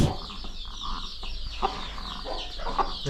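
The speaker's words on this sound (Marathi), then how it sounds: "कोंबड्या अंडीवर बसवलेले" Free-range desi hens on a poultry farm, some set on eggs in nesting boxes, cluck softly and intermittently against steady background noise nearby, with no talking.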